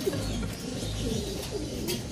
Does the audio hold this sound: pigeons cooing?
yes